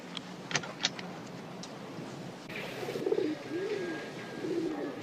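Pigeons cooing inside a warehouse where they are kept, soft repeated low coos building after a few faint chirps, with a hum of background noise and no talk.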